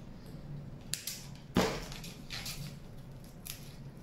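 Scissors cut through clay or fondant while a playful dog armature is shaped, a few soft snips followed by one louder, sharper cut, close and quiet with no talk.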